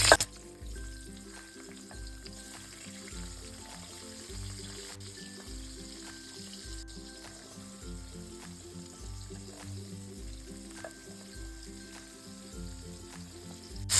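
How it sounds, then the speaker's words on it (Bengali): Green beans and flat beans frying together in hot oil, a steady, soft sizzle throughout with occasional stirring scrapes, under faint background music. "এবার ভেজে নেব বিনস আর সিম একসাথে"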